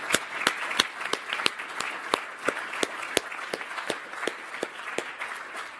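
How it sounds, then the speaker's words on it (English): Sparse audience applause at a science book prize event, a small group clapping in a steady patter of distinct, fairly close hand claps for several seconds, with no talk over it. "In fact, we might as well applaud it."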